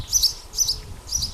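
Three bursts of high, thin chirping from baby birds inside a wall in Cornwall, repeating in a quick rhythm against a low background rumble.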